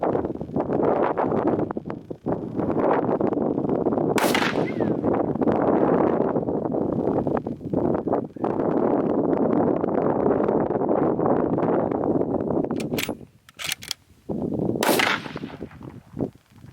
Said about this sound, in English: I'm gonna shoot again here real quick.